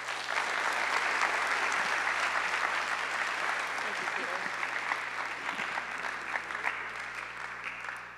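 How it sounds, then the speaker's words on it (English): A high school audience in an auditorium applauds as keynote guests come up, a sustained dense wash of many hands clapping for about eight seconds, steady and fairly loud before easing slightly at the close, over a low electrical hum. "please give a round of applause as they come up"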